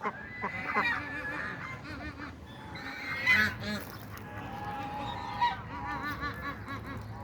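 A flock of geese by the Yeşilırmak river honks continuously, overlapping calls rising and falling, fairly near, over a steady outdoor background with no talking.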